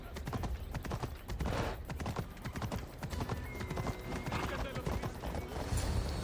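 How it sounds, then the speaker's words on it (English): A horse's hooves clip-clop steadily in Assassin's Creed Odyssey, a rhythmic run of close, loud hoof strikes over several seconds with a brief whinny-like tone and some background game sounds. "He's a special horse and belongs to Hades"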